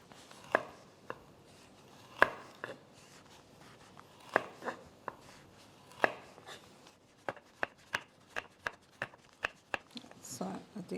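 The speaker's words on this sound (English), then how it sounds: "I'm just turning and slicing down, turning and slicing." A knife slices through carrots and butternut squash on a cutting board in crisp, sharp taps: a few spaced cuts at first, then a quicker, steady run of chops near the end, with some talking alongside.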